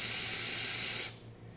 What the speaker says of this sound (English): I'm going to run this hot water for a second or so.